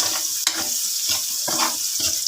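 Onion and garlic hit hot oil left from frying fish, giving a steady bright sizzle. Scraping stir strokes break in every half second or so, close up.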